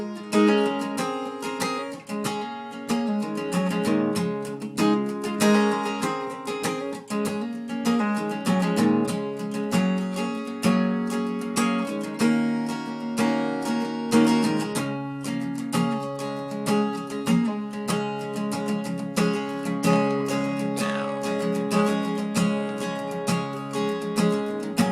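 An acoustic guitar strums the intro and rhythm pattern of a song, a steady, bright chordal pulse played close and continuously for about twenty-five seconds with no voices.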